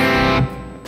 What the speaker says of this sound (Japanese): こういう普通のちょっと軽めの歪みというか、